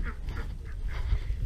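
Farm ducks quacking close by, a short run of four or five nasal calls in quick succession over low rumbling outdoor background noise.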